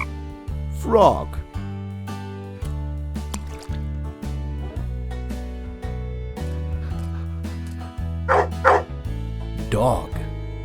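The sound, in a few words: dog barking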